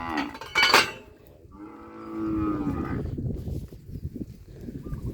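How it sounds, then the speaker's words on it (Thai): Cattle being let out to pasture in the morning moo several times, one loud nearby bellow early on and a long, drawn-out low moo in the middle, with shuffling and hoof noise underneath. "ให้พี่น้องมาชมครับบรรยากาศ ปล่อย วัวตอนเช้านะครับ"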